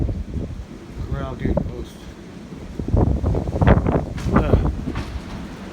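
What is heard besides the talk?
strong wind blowing outdoors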